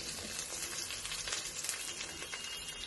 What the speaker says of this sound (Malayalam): നമുക്ക് ഇറച്ചിക്കറി ഇതിലേക്ക് ഒഴിച്ചു കൊടുക്കാം